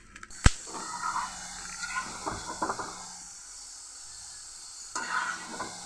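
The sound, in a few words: fried potatoes added to pan, sizzling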